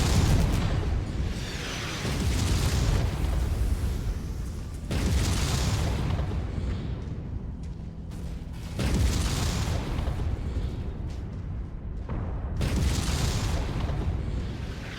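Repeated heavy artillery blasts from Mechwarrior 5, a modded mech combat game: three or four loud, broad booms spaced a few seconds apart, each trailing into rumbling battle noise with no voices.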